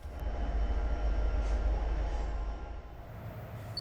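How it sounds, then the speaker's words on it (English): A Norfolk Southern freight train, NS 249, moves through Valdosta, Georgia, with a steady low rumble of rolling cars that eases off slightly toward the end and stays fairly faint. "NS 249 was coming up through Valdosta"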